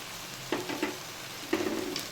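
Chicken pieces coated in masala fry in a pan with soft sizzling and a few stirring scrapes and clinks, quiet and close, no voices.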